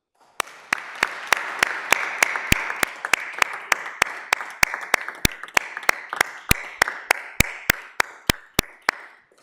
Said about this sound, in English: So I want to just give a round of applause to Councilor Gentile for his hard work